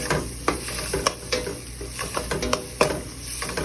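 A spoon stirs tomato paste, black pepper and spices in a hot pan, scraping and tapping in irregular strokes over a steady sizzle, close by with no voice.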